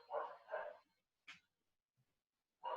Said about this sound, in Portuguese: Tem cachorro latindo aqui.